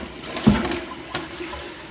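A toilet flush valve being tested after repair releases a short, close rush of water, with a sharp splash at the start and a softer second surge before fading.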